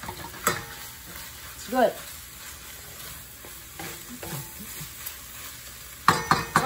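Shredded beef balado, an Indonesian sweet and spicy dish, sizzles in a pan as it is stirred, with a bright hiss, a few scrapes and a louder clatter near the end. A voice speaks briefly over it.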